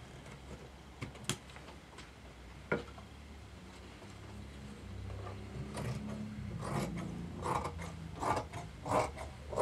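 Fabric is being cut off for a dummy Roman blind, heard as faint, scattered crisp snips and clicks with soft rustling. The sounds become busier toward the end, with no talking.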